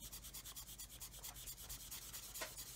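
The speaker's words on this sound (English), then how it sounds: "It's going to take a bit more work to sand out." Sandpaper rubbing rhythmically over a plastic part of an Airfix 1/32 Humber scale model, steady repeated strokes close up and fairly quiet, no voices.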